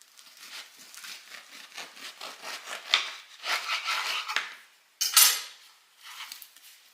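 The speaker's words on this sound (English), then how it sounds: "My best tip for cutting bread is to turn it on its side. It's so much easier to cut that way." A knife sawing through a loaf of homemade bread laid on its side, repeated rasping strokes in a steady back-and-forth rhythm, close and fairly quiet, with a sharper scrape near the end.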